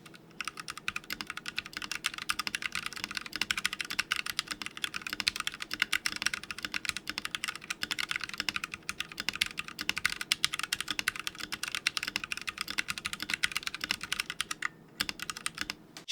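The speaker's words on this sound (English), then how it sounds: "right after the sound test for the keyboard enthusiast out there" Continuous fast typing on a Ducky Mecha SF mechanical keyboard with Cherry Speed Silver switches, crisp rapid key clicks close up, alone with no talking, pausing briefly near the end.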